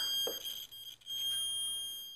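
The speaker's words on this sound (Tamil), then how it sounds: "இந்த மாதிரி பீப் சவுண்ட் வரணும்" A multimeter set to continuity gives its test beep during a motorbike electrical check, a steady high electronic tone that sounds briefly near the start and again at the end, clear but quiet in an otherwise silent room.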